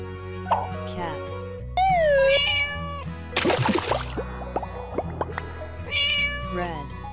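Cartoonish cat meows sound in a children's toy-animal learning game, a few short rising and falling cries spread across the clip amid bouncy music-like tones and a brief splashy burst.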